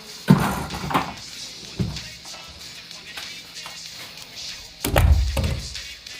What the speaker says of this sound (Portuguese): Ok, vou fechar uma porta.